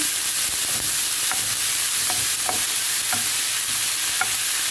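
Watercress sautéed in a pan with salted garlic produces a continuous hissing sizzle, with regular light scrapes and taps as it is stirred.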